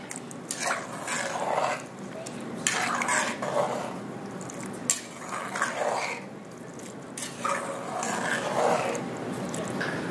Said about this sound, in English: Go ahead and stir that together.